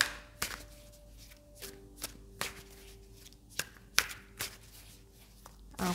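Tarot cards are shuffled and laid down in short, crisp riffles and taps, spaced irregularly and heard close up and fairly quiet, with no voices.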